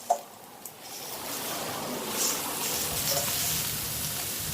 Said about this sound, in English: All we are trying to do at this point is just fry it up to get a nice texture